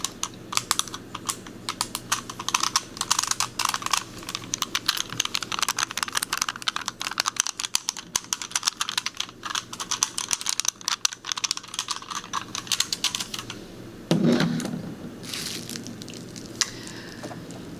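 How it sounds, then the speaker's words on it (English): A Rubik's Cube twisted and handled up close, dense rapid plastic clicks and rattles running steadily without pause, then a brief louder crinkling burst near the end; no talking. "Let me know if you like Rubik's Cubes."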